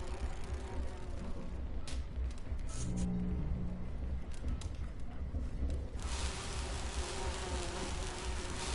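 Cartoon bee buzzing, a steady insect drone with some engine-like rumble underneath, moderately loud and continuous with no voices.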